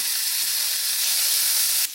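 Ginger and chopped garlic frying with onions for a squid stir fry, giving a steady, close, loud sizzle that hisses evenly throughout and eases slightly at the very end.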